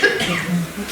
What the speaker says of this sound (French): tonton, pourquoi tu tousses?